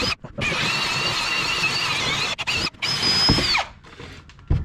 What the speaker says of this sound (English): and drill a hole in it